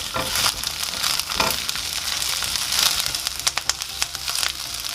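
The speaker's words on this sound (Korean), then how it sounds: "예열된 팬에 식용유 1큰술을 두르고 대파를 넣고 중불에서 볶아 파향을 내줍니다" Green onions stir-fry in a tablespoon of cooking oil in a preheated pan over medium heat, giving a loud, dense crackling sizzle with scraping stirs and quick pops, close up and alone.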